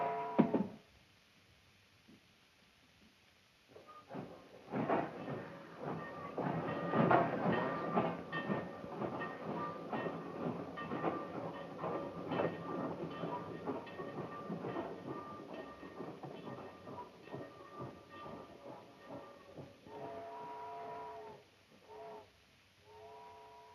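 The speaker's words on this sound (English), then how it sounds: "Train should have pulled out by now." A train in a 1938 western pulls out of a station, its rumbling rolling clatter building after a sharp opening thump and continuing steadily, with intermittent whistle-like tones and fading rattles toward the end and no voices.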